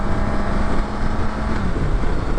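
A BMW motorcycle engine braking on a demo ride, with a steady low engine drone mixed with heavy wind rush, continuous and close.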